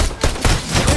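Pistol fire in Fortnite: four quick, loud gunshots spaced roughly evenly in a rapid sequence, close and punchy.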